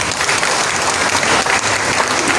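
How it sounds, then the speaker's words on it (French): A crowd at a graduation ceremony for an art school applauds warmly for its director and founder, a loud, thick wash of clapping that holds evenly throughout. "Je vous prie de l'applaudir avec chaleur."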